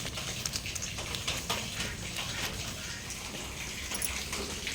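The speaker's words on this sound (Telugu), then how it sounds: "అయితే ఇలా వాటర్ పోసుకుని కడిగేసుకోవాలి" Water poured for washing, a steady close splashing and trickling that runs continuously for a few seconds at moderate volume.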